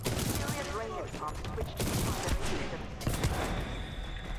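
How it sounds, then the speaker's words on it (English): Shotgun blasts ring out in the Titanfall 2 video game, loud close reports amid a busy mix of other gunfire and bangs, with a voice briefly audible early on. "Ow, that was a shotgun."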